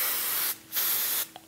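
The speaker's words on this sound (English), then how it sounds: "Okay, so I'm just gonna take the spray." Bedhead Masterpiece hairspray is sprayed close up in two short hissing bursts separated by a brief pause.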